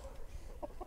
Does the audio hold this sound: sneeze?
no